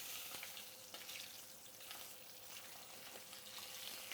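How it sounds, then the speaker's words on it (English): Pheasant pieces, salted, frying in a pan over medium heat, giving a steady, even sizzle with faint crackles and no voices. "And then cook them in the pan until it's golden on a medium"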